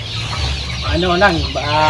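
A busy flock of about 40 hens and three roosters cluck and murmur nearby, a few louder clucks rising over the steady farmyard chatter.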